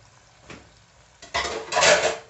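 Meat goes into fried masala in a pot for beef karahi gosht: a soft clink near the start, then a louder scraping, clattering rush of pot and utensil noise that builds and peaks near the end.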